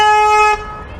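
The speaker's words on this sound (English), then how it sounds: "She wasn't honking at me, she was honking at that car turning into her lane." A car horn in city traffic on Avenue Road in Toronto gives one loud, sustained honk lasting about half a second, then cuts off, leaving low traffic rumble.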